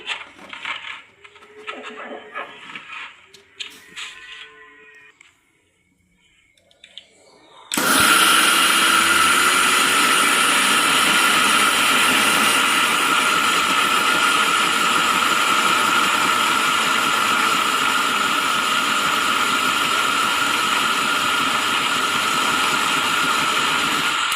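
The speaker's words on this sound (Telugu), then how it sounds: "ఇక్కడ నేను మిక్సీ పడుతున్నా." A mixer grinder grinds soaked dosa batter with fenugreek, a loud steady whirring motor drone that starts abruptly after a quiet stretch of faint clinks and handling, then runs unbroken to the end.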